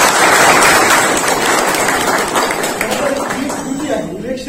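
Audience applause at a Republic Day felicitation ceremony in Biloli, a dense spread of clapping that fades gradually, heard loud and near with some voices mixed in.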